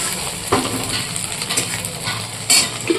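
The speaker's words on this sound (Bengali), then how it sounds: "ডিম ভাজা" An egg frying in a pan, a loud close sizzle with a few sharp scrapes and knocks of a spatula against the pan, no voices present.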